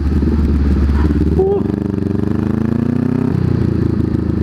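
Honda CB500X motorcycle engine revving up close, a steady loud mid-pitched drone with a rising rev partway through, continuous for the whole stretch.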